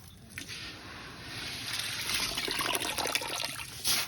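Water drains and trickles from soaked paddy rice as it is scooped up by hand, a faint, close, continuous splashing and dribbling that swells toward the end.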